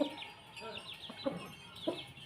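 Soft, short clucks come from a Burmese fighting chicken raised free-range in a rural village, three or four quiet calls spaced through the moment, close by with faint background sounds.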